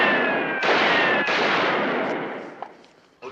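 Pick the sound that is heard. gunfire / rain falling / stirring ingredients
gunfire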